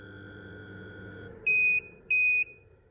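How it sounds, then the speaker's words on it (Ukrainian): A low-temperature alarm on the WPA 140 controller of a 110 kW BORTSA boiler gives two sharp, loud electronic beeps. Each beep lasts about a third of a second and rises clearly above a steady low hum of machinery. "Тривога показує 5 градусів починає вже пікати, типа холодно."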